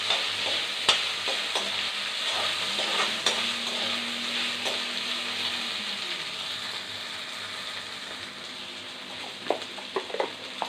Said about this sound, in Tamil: இப்போது வதக்கி வச்சுருக்க வெண்டைக்காய் எடுத்து போட்டுக்கலாம். நல்லா மறுபடியும் வதக்கலாம்.